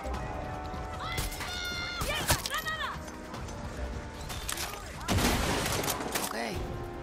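Bursts of gunfire in Far Cry 6, with scattered rapid shots and impacts over game ambience and a voice talking in the middle.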